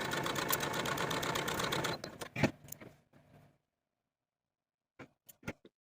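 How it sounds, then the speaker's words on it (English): A sewing machine stitches darts in a fast, steady mechanical run for about two seconds, then slows through a few stuttering stitches and falls silent before several sharp clicks and taps close by. "take your darts to your sewing machine and sew from the bottom to the point"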